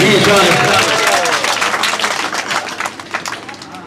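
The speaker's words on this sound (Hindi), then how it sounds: "दोनों हाथ ऊपर उठा के तालियां बजाइए" Audience clapping at a Hindi stand-up comedy show, a dense burst of applause that starts loud and gradually thins out over a few seconds, with a voice briefly audible underneath.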